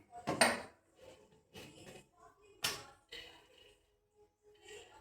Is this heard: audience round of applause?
no